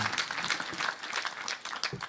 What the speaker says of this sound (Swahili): Tumpigie Mheshimiwa Medho makofi tena.